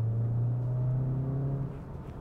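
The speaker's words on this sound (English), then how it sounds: "let's switch the drive mode to normal. Let's see the acceleration curve here." A 2024 Volkswagen Jetta GLI in normal drive mode pulls forward, its steady engine drone and low rumble holding a constant pitch from inside the cabin, easing off slightly near the end.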